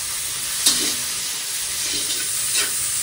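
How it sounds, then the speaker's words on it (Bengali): Fried rice tossed in a very large wok: a loud, continuous frying hiss up close with a few brief scraping strokes of the ladle breaking through. "একটা বড় কড়াতে আমাদের ফ্রাইড রাইস হচ্ছে"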